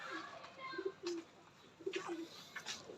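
A teddy pigeon pair coos softly at close range, several low rounded coos in two short bursts with faint chirps and light room noise around them.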